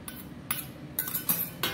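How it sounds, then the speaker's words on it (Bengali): Several light metallic clinks and taps of cutlery on a plate while someone eats rice with fried bitter gourd, spaced irregularly and fairly close. "আমি উচ্ছে ভাজা দিয়ে ভাত খাবো।"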